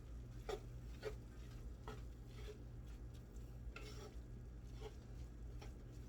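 Soft wet mixing sounds of cabbage roll filling being stirred together with an egg in a bowl, faint spoon scrapes recurring every second or so over a steady low kitchen hum.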